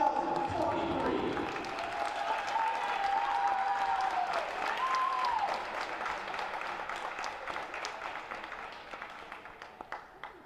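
Audience applause in a gym for the Lynchburg women's basketball class of 2023 at a Bridgewater Eagles game, sustained clapping and crowd noise that slowly thins and fades toward the end, with an announcer's voice early on.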